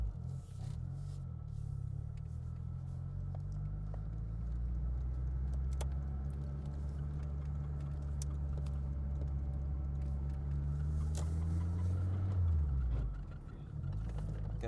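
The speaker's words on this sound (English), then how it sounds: "Let's see how the car drives." A car drives along with a steady engine hum and road rumble from inside the cabin, the engine note dropping near the end.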